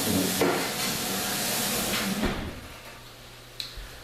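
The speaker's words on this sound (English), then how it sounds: "You see how it's like sizzling and cooking?" Bulgogi beef sizzling under a broiler: a soft, steady hiss and crackle close by, fading toward the end with a few clicks and knocks.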